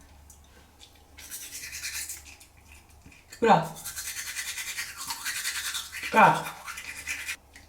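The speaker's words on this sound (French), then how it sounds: "je suis à l'hôtel et je vais me laver les dents" Teeth being brushed with a toothbrush and solid toothpaste in a hotel room, with steady close scrubbing strokes, a couple of louder vocal exclamations between them and continuous brushing noise throughout.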